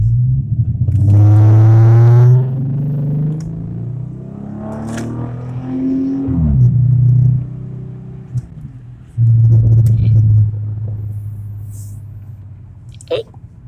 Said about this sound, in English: It's a 2011 used Challenger